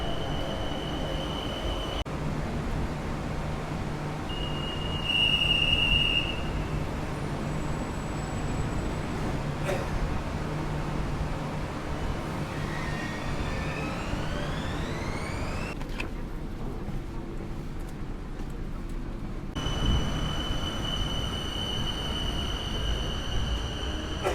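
A rail train ride in Bangkok, Thailand, with steady rumbling wheels and carriage noise inside the car, occasional rising electric motor whines and chime-like tones, and a brief quieter stretch as the train slows.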